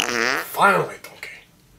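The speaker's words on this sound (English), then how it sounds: "Stop farting!" A short, buzzy fart noise sputters out in a stuffy bedroom scene at lights-out, followed right away by a brief voice and then quiet.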